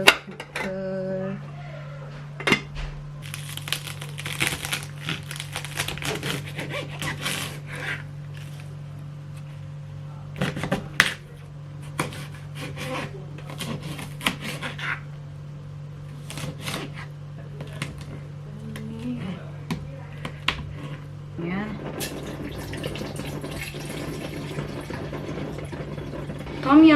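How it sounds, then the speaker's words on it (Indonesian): Rice rinsed by hand in water in a home kitchen, with close, irregular sloshing and splashing bursts over a steady low background hum, going on for some time. "Sekalian aku cuci beras."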